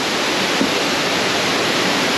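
Spring water at Blanchard Springs in the Ozark Mountains of Arkansas flows steadily into North Sylamore Creek, a constant close rushing wash with no pauses and no voices.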